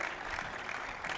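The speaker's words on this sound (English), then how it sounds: "Let's give him a round of applause" Crowd at a squash tournament match in the Palm Hills Squash Open applauding, a steady wash of clapping from many hands, fairly soft and continuous throughout.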